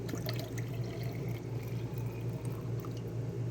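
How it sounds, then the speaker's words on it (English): Cold water pours steadily into a cup, a soft, continuous trickling stream heard up close and fairly quiet. "next we just are going to pour in the cold water"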